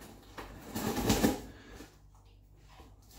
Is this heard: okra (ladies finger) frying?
no